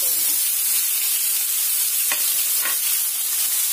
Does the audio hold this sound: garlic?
yes